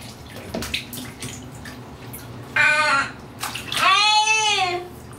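A young child splashes in water in a big bathtub. Splashes and sloshing come in bursts, with a high squealing voice-like sound near the end.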